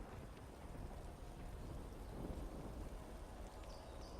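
Rain pouring down to put out fire in the Divinity: Original Sin 2 game, a faint steady hiss of rainfall with a low rumble, continuous and alone with no talk.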